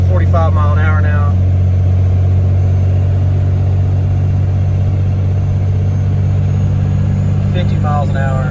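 A Cummins diesel Ford F350 towing a load of cattle and hay in fourth gear at about 45 mph gives a loud, steady low engine drone and road rumble throughout, with someone talking over it at the start and end.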